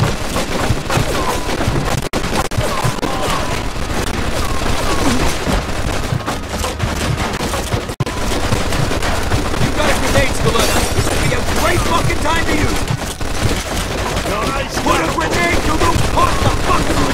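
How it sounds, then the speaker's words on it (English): Sustained gunfire and bursts from a machine gun in the video game Mafia 2, loud and dense throughout with heavy impacts and clatter, plus shouting voices mixed into the battle. "Looks like We found the machine gun!"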